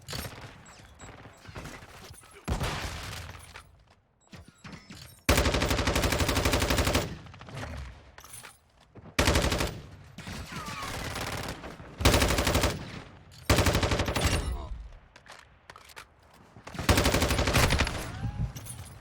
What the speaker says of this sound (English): And that pistol does not miss.